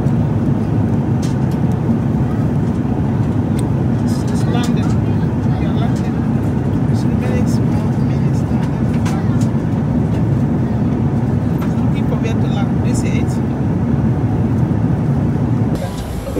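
Passenger airliner landing on a flight into Abuja, Nigeria, heard from inside the cabin as a steady, loud, low engine and airflow roar with rattling, broken by occasional faint voices and small bumps.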